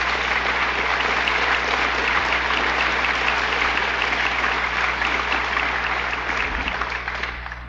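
Sustained audience applause during a 1971 speech recording, a dense, even roar of clapping over a low steady hum, carrying on for several seconds before easing slightly at the end.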